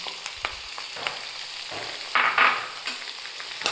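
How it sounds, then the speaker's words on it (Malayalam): Chopped lemon is stirred in a hot pan with garlic and ginger for a lemon-date pickle, crisp sizzling under repeated utensil scrapes and clicks, with a louder burst of frying midway and no talking. "നാരങ്ങ ഒന്ന് ഇളക്കണം."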